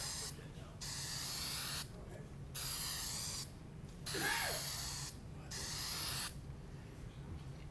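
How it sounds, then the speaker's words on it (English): 3M Super 77 spray adhesive is sprayed from a can in four separate hissing bursts, each about a second long, with short quiet pauses between them, close and fairly soft. "you take some 3M. Super 77 adhesive"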